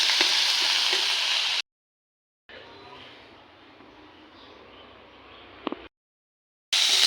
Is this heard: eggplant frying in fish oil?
yes